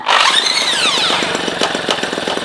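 Peugeot 103 moped engine on a cold day, spun over with a drill: a rising and falling whine of the drill gives way to rapid, loud two-stroke popping that holds steady and close.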